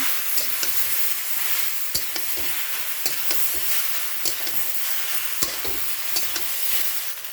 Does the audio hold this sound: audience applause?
no